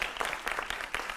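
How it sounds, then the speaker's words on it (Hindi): A brief burst of studio audience applause welcomes Mahant Naval Kishore Das on a Hindi television news debate show. The clapping is quick and moderately quiet and lasts about a second. "जोरदार तालियों से अभिनंदन करिए महंत जी का।"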